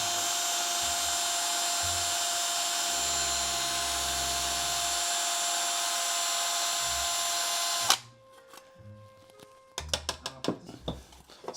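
A power drill fitted with a step bit whines steadily and loudly for about eight seconds while modding a HasLab Proton Pack. It then stops, leaving scattered clicks and clattering handling noises.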